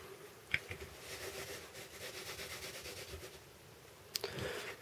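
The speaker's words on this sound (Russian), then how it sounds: "Мы берем одну карту и вот таким вот образом втираем в стол." A playing card is rubbed against a tabletop during a card trick, giving a faint, soft scraping rub with a couple of brief louder taps near the start and end, quiet and close, with no talking.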